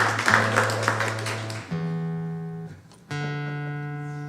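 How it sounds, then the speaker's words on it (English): A stringed instrument is retuned on stage at a live bluegrass radio show. Sustained plucked notes ring out in three steps, each pitch held and adjusted, near and clear with no talk over it. "You have to tune a little bit every now and then so that we still sound purty."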